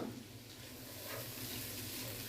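Green beans and capsicum stir-fry in a pan for vegetable rice, giving a quiet, steady sizzle with a soft hiss throughout and no voices.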